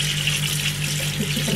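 Water runs steadily from a tap while black ginger is washed, a loud close continuous gush with no talk.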